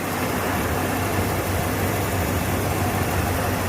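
A Ford Bronco engine idles after its first start, running rough with a suspected cylinder misfire, a close, constant low rumble with no talk.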